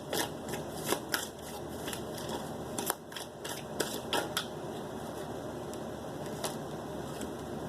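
Tarot cards shuffled and drawn by hand, a steady papery riffle broken by crisp snaps and flicks as cards slide and are set down, close and fairly quiet with no talking.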